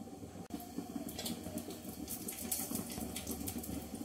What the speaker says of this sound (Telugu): పాలు మరుగుతున్నాయి కదా